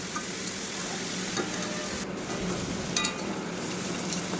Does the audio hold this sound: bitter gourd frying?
yes